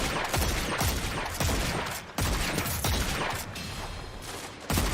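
Shots from the Dead Man's Tale weapon in the video game Destiny ring out as a series of loud, sharp reports, roughly one every second, each with a decaying tail.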